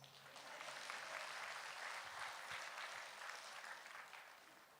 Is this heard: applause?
yes